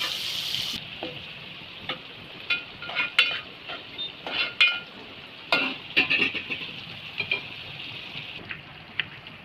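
Onions sautéed in oil in a pan, a soft steady sizzle with intermittent scraping and stirring clicks from a utensil, close and fairly quiet with no talking.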